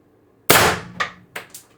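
A single sharp shot from an X-68 Punisher airsoft gun running on 1100 psi HPA, a loud, close crack with a metallic clang, followed by two quieter echoing knocks that trail off quickly.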